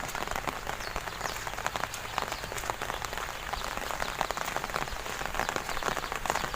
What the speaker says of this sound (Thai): ฝนตกครับผม